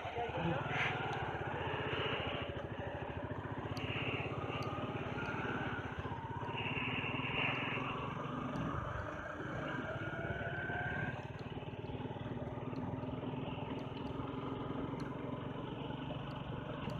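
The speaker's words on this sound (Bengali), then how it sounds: "হিল ক্লাইম্বিং করছি বাইক নিয়ে" A motorbike engine labours steadily while climbing a hill road in the Ajodhya Hills of Purulia, its continuous drone filling the whole stretch at a moderate distance with some voices mixed in.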